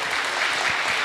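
Sustained crowd applause at a startup pitch competition, many hands clapping together in a continuous, fairly loud wash with a few sharper claps standing out and no voices on top.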